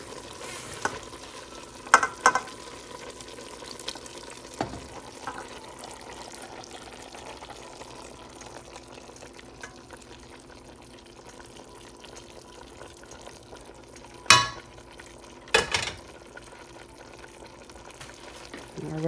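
Hamburger sauce is added to vegetables frying for a beefy hamburger soup, a faint, low sizzle under a quiet background, broken by a few sharp clinks and scrapes of a spoon against the pot.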